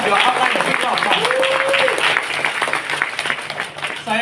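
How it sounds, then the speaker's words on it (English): An audience at an Amway business event breaks into loud, sustained applause that gradually thins out, with voices and cheering mixed in over the clapping. "give all of your upline a big round of applause."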